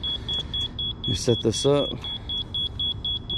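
A level beeps during setup of a metal awning or carport, giving a steady series of short, high, evenly spaced beeps that run throughout while someone talks over them.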